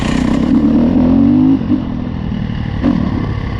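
2015 Husqvarna FC350 dirt bike engine held in third gear on a tight woods trail, a loud close rumbling drone with a brief rising rev, then steadier idle-like chugging and another small blip.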